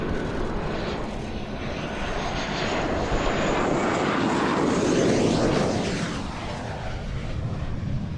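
A fixed-wing aircraft landing on runway 27 gives a loud, continuous engine roar and rushing jet noise that swells toward the middle and then eases, with no voices over it.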